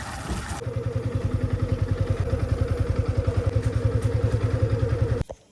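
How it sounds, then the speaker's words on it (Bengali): A motorcycle engine chugs steadily at low speed in a clean, regular pulse, close by and loud, as the bike is ridden slowly along a muddy, waterlogged road, then cuts off near the end. "বাইক এরকম আস্তে আস্তে চালাতে হচ্ছে"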